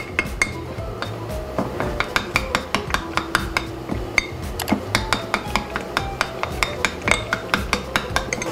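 A spoon stirs flour into water in a small container, clinking rapidly and rhythmically against the sides in a steady series of sharp taps, close by with no talking.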